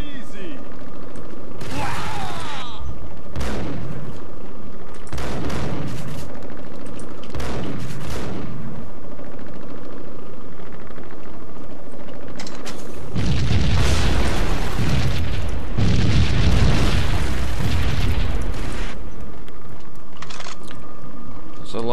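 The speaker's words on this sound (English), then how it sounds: "A lot of explosions." Bursts of gunfire and heavy booming explosions from the video game Max Payne come in clusters, loud and close, building to a dense rumbling barrage, with voices in between.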